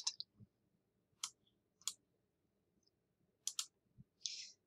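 Several crisp, isolated mouse clicks in Shiftboard scheduling software, spaced irregularly across a quiet background with a faint low hum, each sharp and close.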